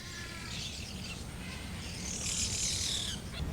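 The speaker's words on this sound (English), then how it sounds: "an island that provides a natural sanctuary for hundreds of egrets, herons, pelicans, and many other birds" Birds chirp and call at an island sanctuary at Disney's Discovery Island, home to egrets, herons and pelicans. A bright burst of high calls rises near the end over a low background hum.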